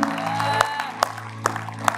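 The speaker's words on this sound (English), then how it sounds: "y'all give him a hand clap of praise" A few separate hand claps of praise from a church congregation ring out at an even, slow rhythm over a steady sustained musical hum in the background.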